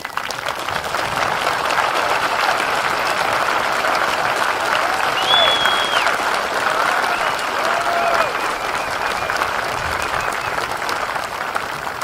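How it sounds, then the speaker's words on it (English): A graduation crowd gives veterans a sustained round of applause, dense, loud and unbroken for about twelve seconds, with faint whistles and cheers mixed in. "please stand up and give them all a great round of applause"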